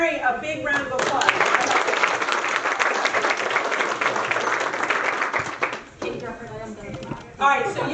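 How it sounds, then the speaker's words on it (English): A room of people giving Mary a big round of applause during a talk: a thick burst of clapping for several seconds that then thins out, with a voice speaking over the tail. "let's give Mary a big round of applause"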